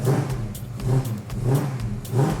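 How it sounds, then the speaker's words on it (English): A 1970 Ford Mustang Hardtop's throaty V8 exhaust revs up and down in repeated bursts, loud and close, with a deep rumble between pulses. "I want you to hear the sound of this engine, the sound of the exhaust"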